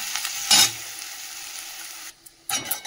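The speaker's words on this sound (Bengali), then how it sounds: "এদিকে পেঁয়াজটা ভাজা হবে, এদিকে অমলেটগুলো" Onions and omelettes frying in pans give a steady close sizzle, interrupted by two loud bursts of stirring or scraping and a brief near-silent gap before the frying resumes.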